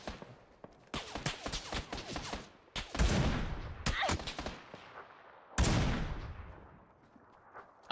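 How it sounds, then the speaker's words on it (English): Lynx rifle gunshots from PUBG on console boom out in several heavy blasts spaced a couple of seconds apart, each trailing off in a long echo, with quieter distant shots and clatter between them. "I hate getting hit markers with the links."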